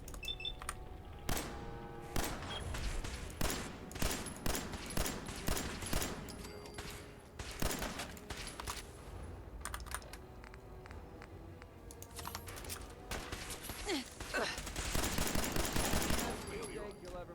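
Rapid bursts of player gunfire in the Fallout 4 video game, repeated sharp cracks in clusters across the clip, with a heavy volley near the end, set against quiet game ambience and occasional talk.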